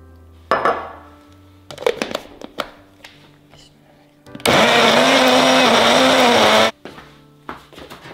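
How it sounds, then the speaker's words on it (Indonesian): An electric blender grinds shallots, red chili, three garlic cloves and cooking oil into a spice paste, a loud steady whir lasting about two seconds, framed by kitchen clatter and short bursts of talk before and after. "Kita blender bumbu buat cabenya ya teman-teman."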